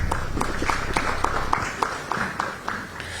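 Sparse, rhythmic clapping from a small forum audience at a public event on media and democracy in Ghana, individual claps spaced evenly and fairly close, with faint background murmur.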